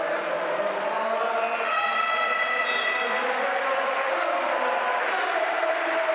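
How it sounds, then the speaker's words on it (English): A raucous, rowdy crowd roars in an indoor basketball arena during a EuroCup game between Virtus and Valencia. A continuous loud din is topped by a shrill horn-like tone, while a commentator talks over it. "the Italians are hearing it from this raucous and rowdy crowd at the Palladosa"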